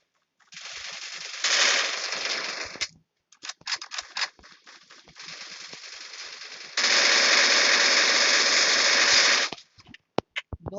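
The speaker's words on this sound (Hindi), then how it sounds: "ये गन मजेदार थी, मजा आया इस गन से मार के बंदों को" Video game gunfire: long, loud automatic bursts from a gun, with sustained rattling stretches broken by scattered single shots and clicks, the final burst the heaviest before a few trailing pops.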